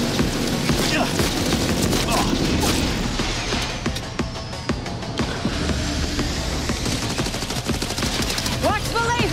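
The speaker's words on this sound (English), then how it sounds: "the smart gun is actually shooting at the weak points" Rapid bursts of smart gun fire aimed at weak points in Cyberpunk 2077, crackling volleys with crashes and impacts in a busy combat mix, with a voice speaking at times.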